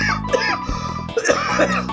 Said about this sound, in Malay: Aku batuk, sorry.